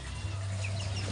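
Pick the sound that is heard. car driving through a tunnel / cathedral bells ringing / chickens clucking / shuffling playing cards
chickens clucking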